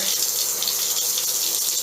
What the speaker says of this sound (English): I need to fill this up with cold water.